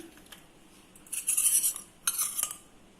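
A utensil whisks an omelette egg mixture with green chili, curry leaves, coriander and salt in a bowl, two short bursts of quick metallic clinking and scraping, close, with quiet gaps and no talk.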